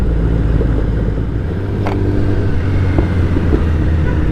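A Kawasaki ZX-10R motorcycle cruises on a highway between Tamil Nadu and Kerala, its engine a loud, steady low rumble blended with heavy wind roar. A couple of faint clicks sit on top of the drone.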